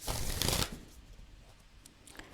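Oracle cards from The Universe Has Your Back deck being shuffled, a brief loud riffle of paper at the start that fades into soft, quiet card handling with a faint tap near the end.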